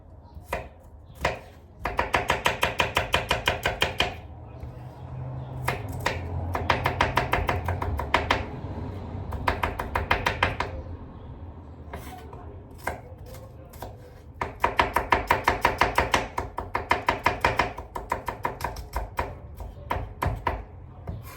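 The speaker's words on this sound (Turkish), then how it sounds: "Sarımsaklarımızı da doğrayalım." Rapid knife chopping garlic on a cutting board, coming in bursts of quick rhythmic strikes separated by brief pauses, close and fairly loud.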